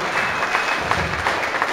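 Applause from an audience honouring two winning athletes at a German sports ceremony: dense, steady clapping fills the short moment at a fairly loud, close level.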